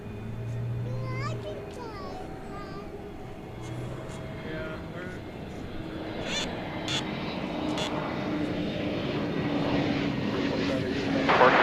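A fixed-wing airplane takes off from a runway at DFW Airport, a broad engine roar swelling steadily from moderate to loud over several seconds, with a voice briefly heard nearby early on.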